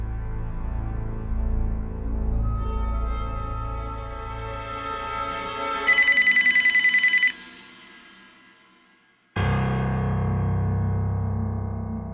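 A telephone rings in a Telugu crime drama scene with electronic ringtone tones, first a descending melodic phrase, then a loud rapid trilling burst, a quieter fade, and a sudden loud resumption of the tones.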